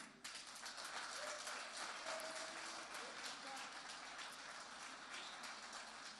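An audience at a presidential debate bursts into steady, dense applause that fills the room and holds evenly throughout, heard from some distance with a faint murmur underneath.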